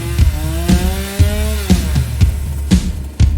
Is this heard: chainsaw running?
yes